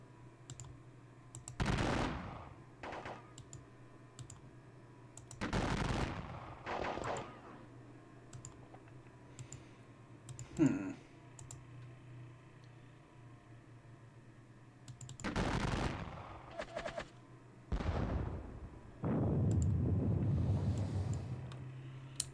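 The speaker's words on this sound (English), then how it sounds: "This lot are going to hit them with a volley and cause next to no casualties." Musket volley gunfire in a Gettysburg war video game, heard as several separate crackling bursts spread across the stretch, some louder and some faint, with a steady low hum underneath and no talking.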